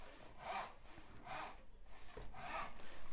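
A hand saw cuts wood for a wingtip spar in three steady rasping strokes about a second apart, each a bright hissing sweep, close and clear, with no talking.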